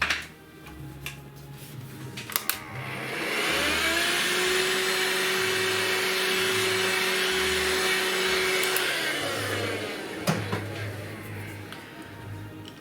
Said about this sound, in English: Out comes the vacuum cleaner again, sorry.